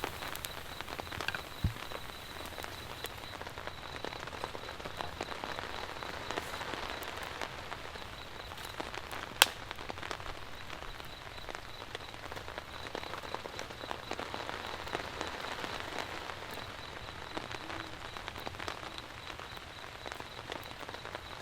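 Steady rain falls outside a tarp shelter at a camp with an elevated fire, a constant close patter of drops on the surface with one sharp tap partway through, no talk.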